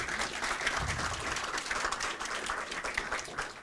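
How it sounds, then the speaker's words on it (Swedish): An audience at a release event in Sweden applauds, a dense, steady wash of many hands clapping together at moderate distance, with no talk over it. "Då tackar vi Robert med en stor applåd."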